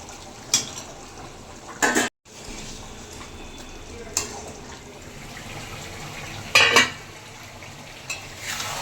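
Mutton curry simmering in a pan with fried potatoes being added, giving a steady sizzling hiss broken by a few sharp clinks and scraping stirs, close and fairly loud.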